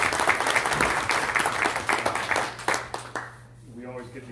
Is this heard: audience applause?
yes